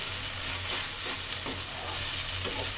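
Okra frying slowly over low heat in a pan for a shrimp and okra stir-fry, a steady soft sizzle with occasional stirring scrapes, close and continuous throughout.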